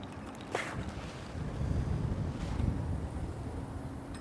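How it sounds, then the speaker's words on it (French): Wind blows across an open fishing spot, a low rumbling buffet that swells and eases with a couple of brief gusts, steady and moderately loud with no voices. "parce que le vent force si gentiment"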